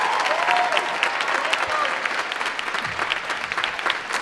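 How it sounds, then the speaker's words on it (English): Audience at a middle school choir evening applauds the two adjudicators, a steady wash of many hands clapping at moderate distance for several seconds without talk. "give Miss Lubke and Mr. Stenson a huge round of applause"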